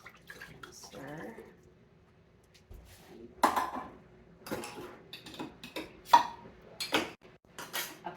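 Unsalted black beans are stirred in a pot, heard as scattered, close metallic scrapes and clinks of a spoon against the pot, with speech and a faint background hum.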